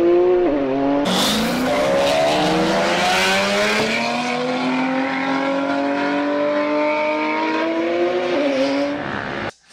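A drag racing car with an 88mm turbo launches hard, its engine roaring loud and close as it revs and climbs in pitch, with tire squeal, before cutting off sharply at the end.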